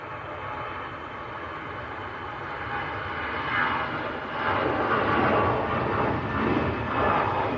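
An EasyJet Airbus A320 on a wet runway at Manchester Airport makes a broad, hissing engine roar heard from a distance, growing louder and surging with spray-like noise as the sound builds, with no talking.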